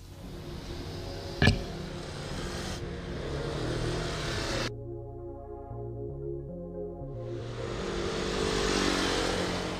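Engine of a 2017 Honda Forza 125 Euro 4 scooter running while ridden, a steady motor drone with a sharp brief spike early on, then shifting lower tones and rising revs toward the end.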